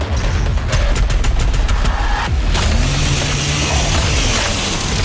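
Incoming missiles explode in the Doom Eternal first-person shooter on ultra-violence difficulty, a loud rapid chain of blasts and gunfire crackling close up, followed by rumbling booms and lingering explosion noise, with no speech.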